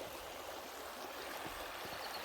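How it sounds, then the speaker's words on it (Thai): Strongly flowing stream beside a village path, a steady broadband rush of water with faint gurgles, close and continuous with no voices. "ลำธารมันก็น่ามีปลานะ น้ำไหลแรงด้วย"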